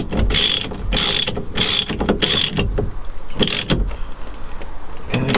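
A ratchet tightens the steering wheel bolt on a classic Fiat 500 in bursts of rapid, close clicking, about four quick runs followed by a few slower, fainter clicks.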